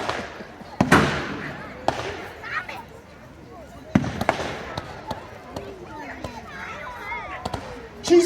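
Pyrotechnic blasts during a staged naval gun battle on the lake at Peasholm Park, Scarborough, with a warship under attack: sharp bangs at irregular intervals, some loud and close, over outdoor crowd chatter and a distant voice.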